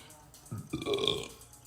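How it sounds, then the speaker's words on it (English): A single human burp, short and close, rises out of near silence and fades within a second. "we burp when we clear energy"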